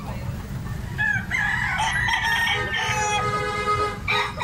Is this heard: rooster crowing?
yes